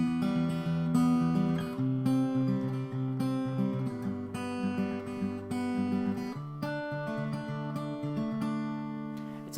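Acoustic guitar plays the intro of a song, steady strummed and picked chords ringing close and clear with no talking.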